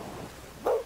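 A dog in the pirate game Sea of Thieves gives a single short, sharp bark, brief and fairly close, against a quiet background.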